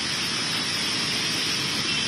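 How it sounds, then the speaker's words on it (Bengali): Rain pours steadily across South Bengal districts during a monsoon downpour, a dense, even hiss that holds unbroken and fairly loud throughout with no voices. "দক্ষিণবঙ্গের জেলায় জেলায় এরকমই বৃষ্টি"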